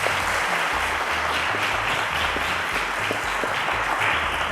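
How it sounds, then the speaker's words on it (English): Sustained studio audience applause at a school quiz show, dense and steady throughout with no talking, a low music bed pulsing underneath. "A round of applause, ladies and gentlemen"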